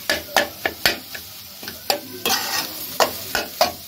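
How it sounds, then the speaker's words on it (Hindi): A spoon mixes masala spice paste for potato samosas in a hot pan, with a quick run of sharp scraping strokes against the metal over a low sizzle. "ये हमारा हो गया मसाला और इसको हम इस तरह से मिक्स कर लेंगे अच्छे से।"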